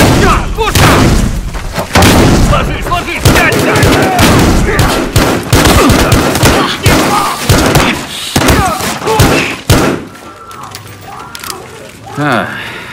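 In the video game Battlefield Hardline, loud, close gunfire erupts in rapid, dense volleys of shots and booms, then thins toward the end.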